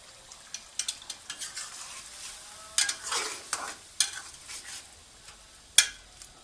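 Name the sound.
chicken karahi with garam masala frying and stirred on high flame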